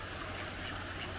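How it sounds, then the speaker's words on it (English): Ducks on a summer pond at St Annes give a faint, steady wash of quacking and water noise, distant and continuous with no voices over it. "Ducks having a bath."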